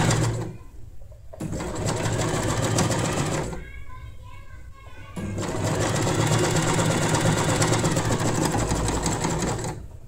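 An Usha Janome Wonder Stitch sewing machine stitches a hem in loud, fast, steady runs. It stops briefly twice, and a voice talks during a pause; birds chirp faintly in the background.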